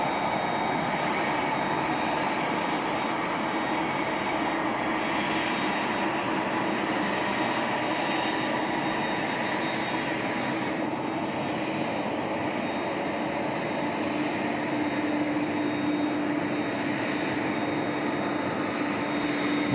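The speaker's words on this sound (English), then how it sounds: "Here we see the Qantas 497 off to Melbourne, the A330-200 now just taxiing on Charlie right in front of Shep's Mound" A Qantas Airbus A330-200 airliner taxis at night at Sydney Airport, a steady broadband jet-engine roar and whine holding evenly throughout with no talk over it.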